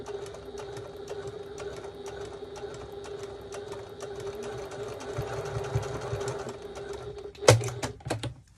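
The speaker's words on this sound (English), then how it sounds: "How am I actually going to fit you into my sewing machine" A sewing machine stitches a 1941 gas mask bag, running with a steady, close, mechanical whir and rapid needle clatter, then stopping with a few louder clunks near the end.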